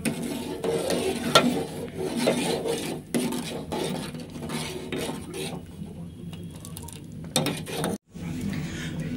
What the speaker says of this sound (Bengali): দিয়ে ভালো করে আমাদের এটাকে নাড়তে হবে